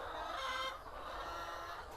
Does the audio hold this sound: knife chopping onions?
no